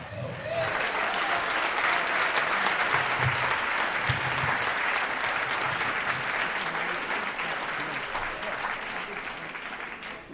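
Audience in a synagogue applauding after a concert piece, sustained dense clapping from a large crowd that swells in and holds steady for ten seconds, fairly close and loud.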